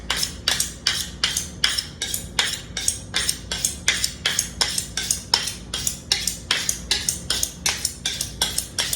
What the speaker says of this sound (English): I'm just going to take a minute and sharpen my fillet knife.